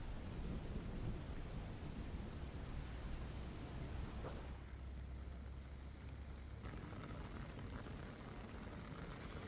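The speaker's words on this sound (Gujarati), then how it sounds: "ખેડામાં વરસાદ જોવા મળી રહ્યો છે" Heavy rain pours down steadily across Kheda district, a dense, continuous roar of falling water with a deep rumble of thunder rolling underneath for the first half before easing off.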